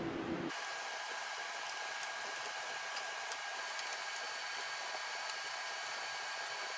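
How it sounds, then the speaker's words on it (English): A power screwdriver backing screws out of a Konica Minolta 1200P printer gives a steady high-pitched whine that starts abruptly and runs on without a break, fairly faint and close. "Okay, we have four screws to take out. Two here and two right here."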